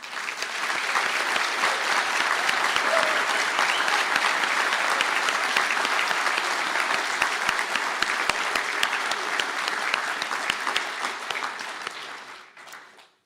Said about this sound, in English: I ask the graduates of the construction management programs to stand for a round of applause.